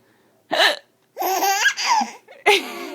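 Sharp hiccups from a woman burst out in short bursts, each followed by a baby's bright, giggly laughter close by, with quick gasping pauses between.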